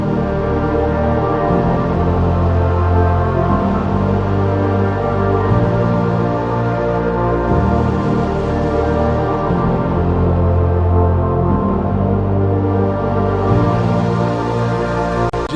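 The Cinematic Lights synth instrument, driven by Scaler 3, plays sustained layered chords that shift in steps and hold a rich, dense tone throughout, loud and continuous with no talking.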